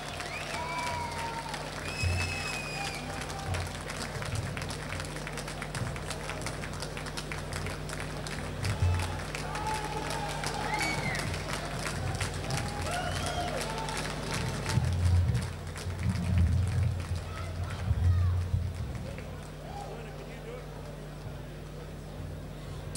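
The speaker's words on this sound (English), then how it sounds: "give James Grimmer a big round of applause" Crowd applause for a fighter at a fight night: steady dense clapping with scattered cheers filling a large hall, moderately loud and sustained, with voices and low rumbling underneath toward the end.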